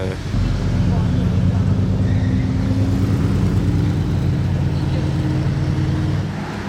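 A Ford Mustang drives past with a loud, steady, low engine rumble that stays strong and close throughout and eases slightly at the end, with people talking over it.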